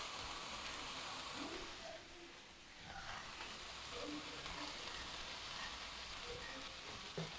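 Tomatoes and onions sautéing in a pan for paneer butter masala give a steady, soft, close sizzle with faint crackles throughout, and no one speaks.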